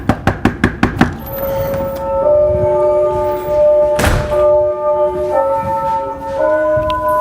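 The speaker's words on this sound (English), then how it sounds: "Knock on the door, ring the doorbell." Six quick, sharp knocks on a door ring out close by, followed by a doorbell chime whose sustained tones ring and overlap for several seconds with a thump partway through.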